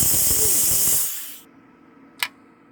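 Pressure cooker venting steam while cooking egg roll in a bowl, releasing a loud, close, hissing rush that cuts off after about a second and a half, followed by a brief faint puff.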